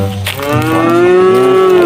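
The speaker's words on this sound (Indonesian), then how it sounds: "di sini ada suara sapi nih teman-teman" A cow moos in one long, loud, drawn-out call that rises and holds steady, close by with little else around it.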